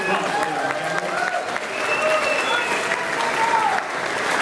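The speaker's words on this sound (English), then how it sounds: "Let's give him a big round of applause." An audience applauds at a Polka Hall of Fame induction ceremony, a sustained round of dense clapping from a crowd in a hall, with a voice heard faintly over it.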